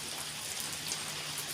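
Heavy rain from Cyclone Remal in Balasore pours down in a steady, dense hiss that stays unbroken and even throughout, with no voices.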